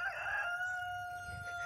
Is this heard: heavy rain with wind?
no